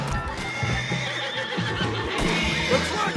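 A horse neighs and whinnies in Red Dead Redemption 2, with hoofbeats clip-clopping beneath it throughout; the sound is steady, close and fairly loud, with no talk.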